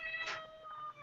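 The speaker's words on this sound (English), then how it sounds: "That's not a ferret noise, it's a cat" A house cat gives a single short, bright meow, close and clear, lasting under a second.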